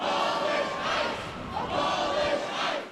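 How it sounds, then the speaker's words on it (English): A protest crowd in Los Angeles calling for an end to ICE chants in loud, rising and falling waves of massed voices outdoors, two swells of shouting within a few seconds. "Police readying and the chants continuing."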